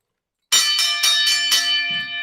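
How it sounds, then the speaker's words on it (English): A ring bell marks the end of a round: five rapid, bright metallic strikes follow silence, each ringing on into a sustained loud clang that slowly fades. "That's the last bell, and that's our program."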